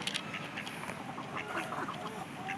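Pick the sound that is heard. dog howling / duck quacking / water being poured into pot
duck quacking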